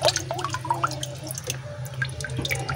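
Water drains from a backyard guppy pond through a bucket, heard as close, irregular drips and small splashes over a low steady trickle, with no voices.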